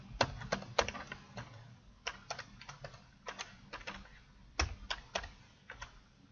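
Typing on a computer keyboard while setting up a Linino One board: sharp, close key clicks in irregular bursts and short runs, fairly quiet, with no talk.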